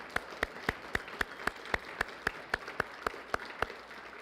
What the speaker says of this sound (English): Can we get another round of applause for Janessa and her production team?